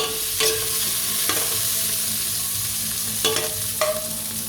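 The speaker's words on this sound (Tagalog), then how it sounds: "Magigisa tayo ng sibuyas" Onions sautéing for beef kaldereta, a steady sizzle of frying in a pan broken by four sharp scraping stirs of a utensil, close and alone with no talk.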